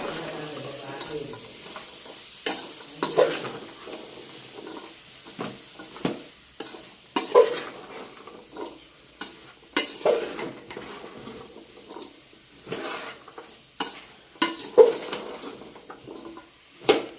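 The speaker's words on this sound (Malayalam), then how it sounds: "നന്നായിട്ട് ഇളക്കി കൊടുക്കണം." Mango pickle mixture being stirred in a pan, with repeated scraping strokes and soft sizzling in an irregular rhythm, close and fairly quiet, with no talk over it.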